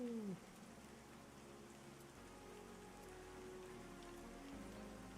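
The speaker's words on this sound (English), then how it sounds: "So rainy." Rain falls steadily in the fantasy video game Pantheon, a soft, even patter throughout with faint tonal game sounds underneath and no voices.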